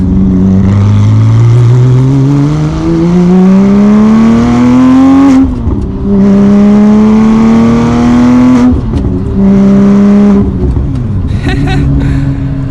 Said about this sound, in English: I don't know how Porsche does it with their flat six engines